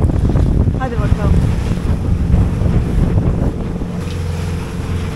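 Wind gusts and rushes across a sailboat out at sea, a steady, loud, broadband roar with water wash and buffeting on the microphone, continuous throughout with no talk.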